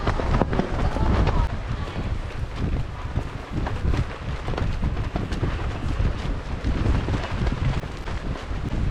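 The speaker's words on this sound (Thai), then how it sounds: "ลมดีมากนะคะ" Strong wind at a beach cafe in Hua Hin, Thailand, buffeting the microphone in continuous loud rumbling gusts that roar without pause for the whole stretch.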